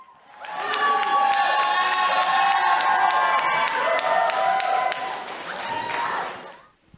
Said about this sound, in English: let's give a nice round of applause for the father of our bride, John, as he comes up to the podium to say a